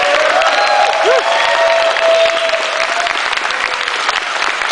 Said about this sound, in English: give one big round of applause